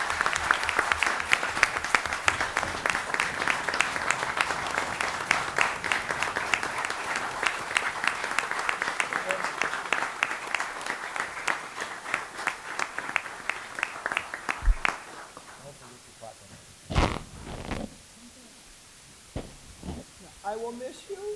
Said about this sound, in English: Let's give her a standing applause.